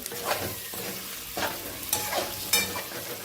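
Pieces of cut fish fry in hot oil with a busy, crackling sizzle, and bursts of spattering rise and fall every half second or so, close and fairly loud.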